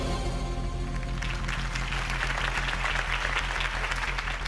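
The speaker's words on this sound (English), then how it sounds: "If only Mr. Wayne, my campaign's largest backer, could have heard that applause" Crowd applause in a Batman adventure video game, a dense sustained clapping from many people over a low steady musical drone, loud and continuous.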